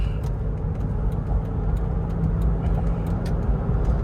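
A car on the road during a test drive, its engine droning steadily and loudly with continuous road and wind rumble throughout, no voices over it.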